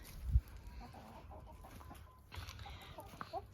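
Chickens near their backyard coop give soft, scattered clucks and murmurs at close range, with a dull thump early on and quiet rustling between calls.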